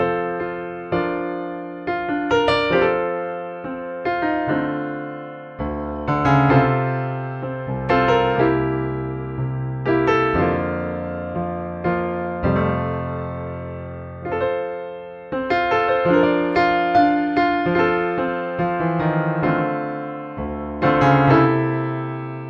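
A physically modeled grand piano played alone, with flowing chords and melody, struck notes ringing out with sustained string and soundboard resonance, loud and close throughout.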